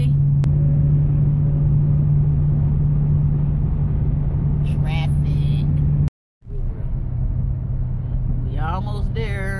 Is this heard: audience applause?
no